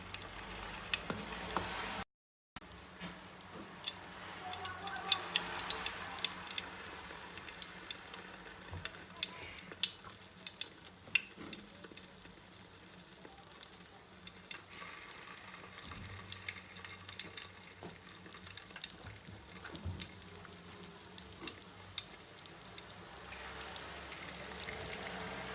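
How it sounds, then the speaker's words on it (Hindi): Shami kebabs frying in oil in a pan, a steady soft sizzle running throughout with faint clatter, no talk, and one brief drop to silence near the start. "इसको अच्छे से फेंटेंगे, और इनको फ्राई करना शुरू करते हैं। शामी तलेंगे।"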